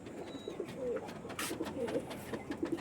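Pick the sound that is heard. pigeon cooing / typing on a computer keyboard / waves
pigeon cooing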